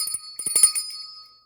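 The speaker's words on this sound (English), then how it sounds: "Ringing that bell." A small, high, bright bell is rung in a workshop: a few quick metallic strikes with clear, sustained ringing tones that decay over about a second, alone without talk.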